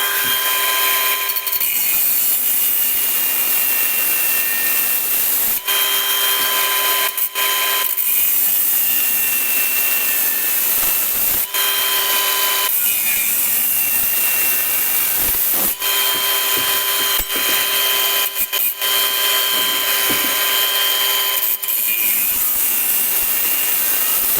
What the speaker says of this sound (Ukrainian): Болгарочка справляється на ура.